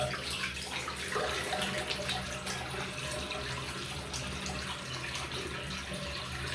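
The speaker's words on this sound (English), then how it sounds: "A little tiny hand basin. Taking its time to drain." Water slowly draining from a small hand basin, a steady soft gurgling trickle with continuous low rushing, moderately close and unbroken throughout.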